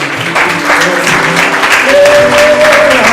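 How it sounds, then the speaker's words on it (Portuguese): Church congregation applauding, a dense continuous wash of many hands clapping at close range, with a sustained tone and some voices mixed in. "Dá uma salva de palmas ao Senhor."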